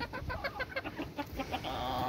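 A farmyard hen clucks in quick, rhythmic bursts at close range, a steady run of short notes with no talking.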